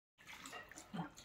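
Water splashing as a baby is bathed at home, a short burst of sloshing and trickling after a moment of silence, close and fairly quiet, with a voice present.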